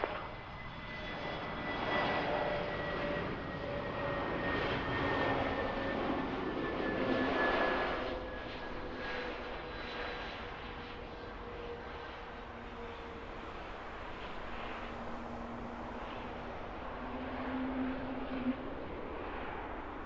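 Air Transat 480 Heavy jet departing runway 05 at Toronto Pearson, a loud sustained engine roar with rising tonal whine that slowly fades and shifts as the aircraft climbs away, heard alone.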